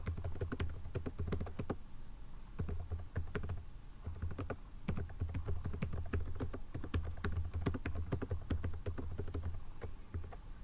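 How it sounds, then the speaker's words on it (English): Fingers type steadily on a computer keyboard in a quick, continuous patter of soft clicks, close and fairly quiet, with no talking. "So next I'm going to start typing in my options"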